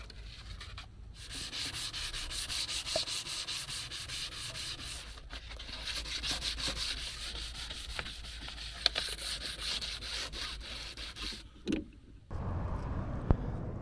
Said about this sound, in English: So I'm just finishing off with the scuff pad, just to give it that final flattening down for the surface.